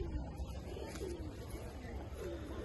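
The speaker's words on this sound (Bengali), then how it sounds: "সবগুলোই ব্রিডিংয়ের কবুতর এগুলা" Giribaz pigeons of the Palla line coo softly in a breeding loft, low murmuring calls repeating through steady background noise.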